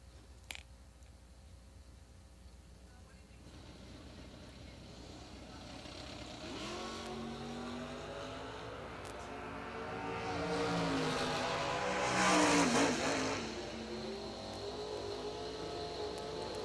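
Drag racing at the 2022 IHRA World Finals, including a purple Mopar, with engine roar building from a distant rumble to a loud, rising rev peak, then holding, crowd noise and faint talk underneath.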